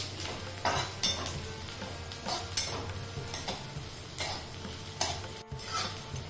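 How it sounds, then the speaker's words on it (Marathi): Garlic cloves and onion sauté in a pan while a utensil stirs in repeated scraping strokes over a light, steady sizzle, close and fairly quiet. "आता याच्यामध्ये आपल्याला दहा बारा ते पंधरा लसणाच्या पाकळ्या घालायच्या आहेत आणि छान असा दोन ते तीन मिनिटासाठी परतवून घ्यायचे"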